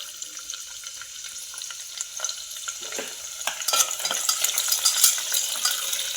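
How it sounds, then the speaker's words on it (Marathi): Garlic sizzles in hot oil with cumin and mustard seeds, a steady bright crackle that builds louder as it is stirred, heard close with no talk. "लसूण छान परतून द्यायचा"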